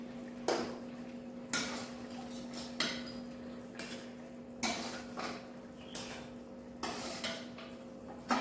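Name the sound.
rohu fish pieces added to simmering curry pot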